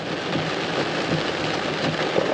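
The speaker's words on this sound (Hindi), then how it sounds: "क्या भयंकर बारिश हो रही है।" Heavy monsoon-style rain in Uttarakhand pours down in a dense, constant hiss, with drops drumming on nearby surfaces and a low rumble underneath, no voices.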